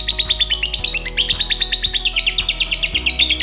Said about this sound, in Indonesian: Suara lovebird sangat unik sehingga bisa dikategorikan sebagai jenis burung dengan kicauan suara termerdu.